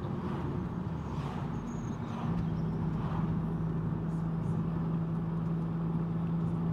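Mazda 3 MPS with a big turbo drives along, a steady low engine drone and road roar carrying throughout, with a faint whine rising slightly after the first couple of seconds.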